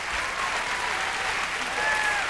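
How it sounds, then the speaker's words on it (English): A church concert audience keeps clapping for performing children, sustained full-room applause holding even and loud throughout, with a few voices blended into the crowd. "Keep clapping for them."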